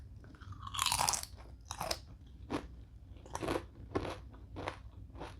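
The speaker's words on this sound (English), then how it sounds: "I think first thing I'm going to get started with is the bacon." Several slices of very crispy bacon are bitten and chewed close to the mic, sharp crackling crunches arriving in a steady series of separate bites, with no talk over them.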